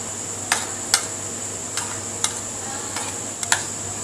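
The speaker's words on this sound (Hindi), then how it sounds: "अब हम इसे मिक्स करेंगे अच्छे से।" A cornflour mixture for chatkara boti being stirred by hand, with several soft scraping strokes spaced irregularly over a steady background hum.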